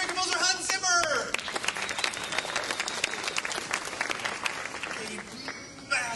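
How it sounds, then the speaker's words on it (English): Members of the press at a Man of Steel press junket burst into sustained applause, with dense clapping and crowd noise that carries on under scattered speech. "A massive torrent of applause from the press."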